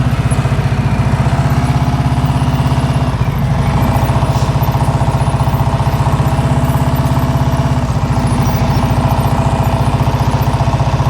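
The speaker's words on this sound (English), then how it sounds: "Hear his engine? Steady the whole time." A motorcycle engine held at an even, steady throttle while riding slowly during a slow-speed skills practice, a loud, close, continuous thrumming pulse that barely varies from start to finish.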